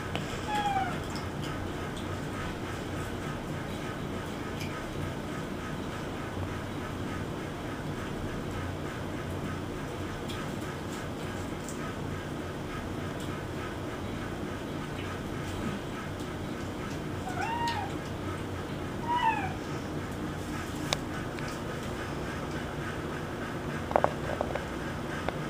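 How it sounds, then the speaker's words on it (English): Several cats meow at feeding time, scattered short calls over steady indoor background noise, with a few louder bursts near the end. "I'm gonna feed the cat over here."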